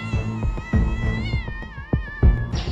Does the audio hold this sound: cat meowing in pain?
yes